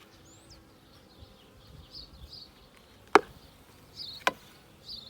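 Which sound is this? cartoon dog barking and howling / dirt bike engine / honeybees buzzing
honeybees buzzing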